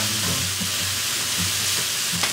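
Mushrooms seasoned with pepper, salt and oregano are stirred in a hot pan, giving a brief, close sizzle with scraping stir noises and no talking.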